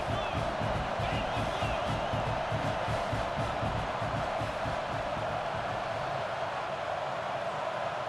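Stadium crowd cheering in the EA Sports College Football 26 video game, a continuous, loud roar of many voices with a thumping low rumble underneath, sustained evenly from start to finish.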